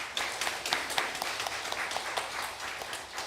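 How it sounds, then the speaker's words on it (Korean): A church congregation claps for a newly registered family during a Sunday service, a moderate, uneven patter of many hands with distinct individual claps, steady for a few seconds. "먼저 박수하시겠습니다"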